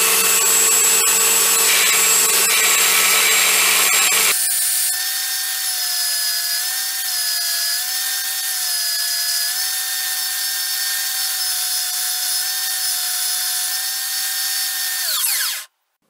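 Variable-angle bench sander grinding a screwdriver tip, a loud whining motor with a rasping contact sound at first, then a steady high hum that winds down and cuts off at the end.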